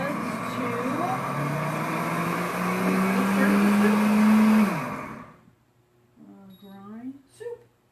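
A countertop blender grinds ingredients into soup, a loud steady whir with a rising pitch that runs for about five seconds and then cuts off, followed by a short spoken remark in a quieter room.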